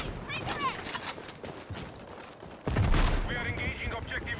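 Video game gunfire comes in quick bursts of shots with mechanical clatter, then a louder, heavier volley near the end, while players talk over the action.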